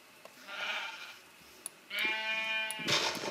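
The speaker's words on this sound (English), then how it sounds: "Let me kill the sheep." Sheep in the Minecraft video game bleat twice, a wavering nasal cry followed by a louder, longer bleat, with brief game clicks between them and no talking.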